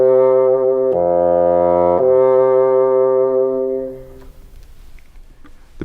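A bassoon plays a low, reedy sustained tone that shifts to a new held pitch after about a second and rings steadily for several seconds before stopping, leaving faint room noise.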